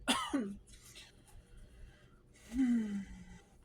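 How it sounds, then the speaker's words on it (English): A couple of short coughs and throat-clearing sounds, fairly quiet, with breathy pauses between them. "I start to cough a lot"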